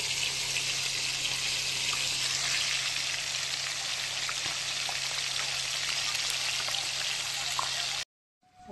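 Fish frying in a pan gives a dense, steady hiss and crackle close to the mic throughout, with a low hum underneath, cutting off abruptly near the end.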